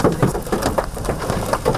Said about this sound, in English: A downpour of damaging hail for hours in Colorado Springs